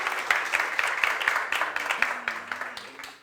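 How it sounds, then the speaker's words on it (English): A conference audience gives a short round of applause for a speaker, with individual claps audible as a rhythmic patter that thins and fades out over a few seconds. "a big round of applause for Vladan and for you as well"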